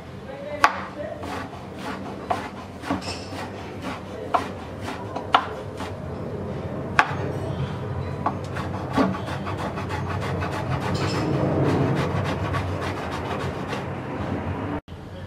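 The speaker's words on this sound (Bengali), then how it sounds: "এবার বেগুনের ভিতরের শাঁসটাকে আমরা কুচি করে ডিমের সাথে দিয়ে দেব।" Knife chopping eggplant pulp finely on a board, a steady run of sharp, close taps through a continuous low kitchen background, with no talking.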